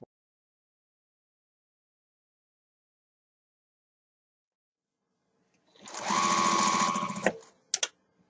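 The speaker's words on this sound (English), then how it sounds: "I'm here at the sewing machine" A sewing machine stitches hand-dyed quilt fabric pieces together along a short side, a steady mechanical whirring run of about a second and a half after long silence, followed by a couple of quick clicks.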